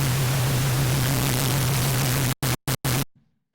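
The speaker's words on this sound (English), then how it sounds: "it sounds like kind of pink noise garbled in with what the wavetable sounds like" Pink noise modulating the phase of a wavetable oscillator in the Bitwig synthesizer, giving a steady grainy hiss over a low tone that stutters in three short bursts before cutting to silence.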